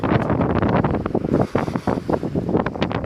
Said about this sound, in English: It's kind of windy today, which is good.